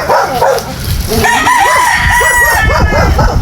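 Fighting roosters in Badian, South Cebu crow and cluck loudly at close range, several birds overlapping in repeated calls, with a dog barking faintly in the background.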